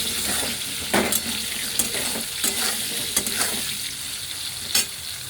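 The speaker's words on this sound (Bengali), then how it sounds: "দেখুন, এটাকে আমি ভাজছি" Steady sizzling of mixed vegetables frying in a pan, with intermittent sharp scraping and clinks of a spatula stirring, close and fairly loud.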